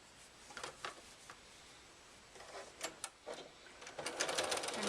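A sewing machine stitches jelly roll quilt strips together in quick bursts of rapid needle clatter, stopping and starting, fairly faint and close, with no talk.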